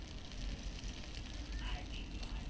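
Cutlets frying in a pan at home, a steady soft sizzle and crackle running continuously without pause.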